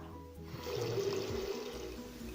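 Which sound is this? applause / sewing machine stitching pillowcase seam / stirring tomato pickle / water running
water running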